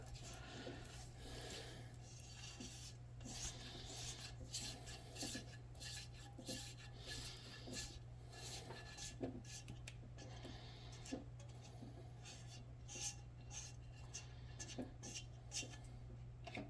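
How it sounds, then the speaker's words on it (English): A utensil scrapes and rasps softly as ingredients are pushed into a pot of elk chili, with quiet repeated strokes over a low steady background hum. "scrape all of this goodness into the chili"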